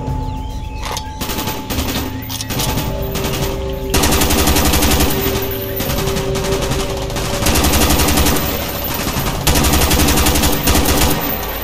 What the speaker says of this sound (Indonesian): Gua tembak aja membabi buta ya.